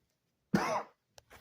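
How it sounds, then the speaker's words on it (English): A single sharp cough rings out close and alone in an otherwise quiet moment, followed by a faint short click and a brief breathy sound. "Sorry, I had a cough."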